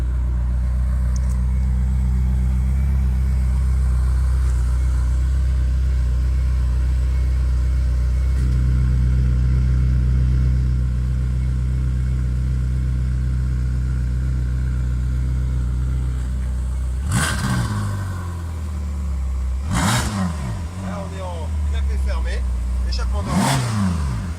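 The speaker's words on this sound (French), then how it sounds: "je vais te montrer la différence. Entre clapet ouvert et clapet fermé." Ferrari California V8 idling on its original exhaust as the valve is shut and then opened, a steady low drone with a tone change partway through and three sharp throttle blips near the end.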